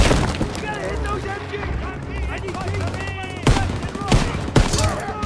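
Machine gun fire in a Call of Duty WWII battle at a barn, continuous rattling bursts with sharp louder shots and booms, under shouted voices throughout.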